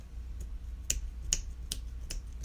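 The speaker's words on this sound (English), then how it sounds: "Can you snap your fingers?" Several crisp finger snaps ring out one at a time at an uneven pace, sharp and fairly close, over a low steady room hum with no talking.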